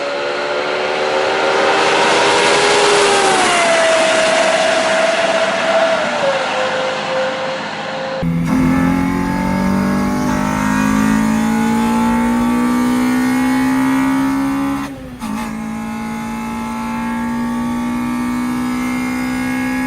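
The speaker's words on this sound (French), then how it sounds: "la LFA qui est réputée pour être pour beaucoup la voiture avec le plus beau bruit du monde" A Lexus LFA supercar engine with Yamaha-tuned sound, loud and close. The engine gives a sustained howling drone whose pitch climbs and dips, with a short drop near the end.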